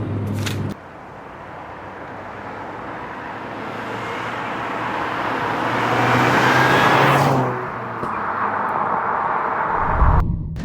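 A Peugeot 205 XS engine pulls hard while driving, a loud in-car drone rising steadily in pitch through acceleration, then easing off with a gear change before a brief thump at the end.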